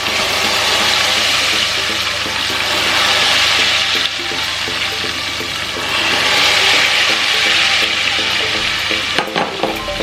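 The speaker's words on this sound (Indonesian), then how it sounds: "Dan minyaknya udah panas, mari kita siram ya." Hot oil poured onto chili sambal hisses and sizzles loudly and continuously, a dense crackling roar that swells and fades slightly.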